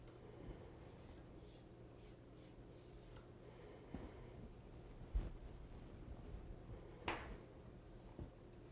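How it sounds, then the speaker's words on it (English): A knife scraping along the seams of a tiered New Year's Eve cake with edible bottle and bubbles decorations, heard as quiet, scattered scratches and light ticks with a sharper scrape near the end, no talking. "I'm going to take my knife and I'm just going to scrape it just like that"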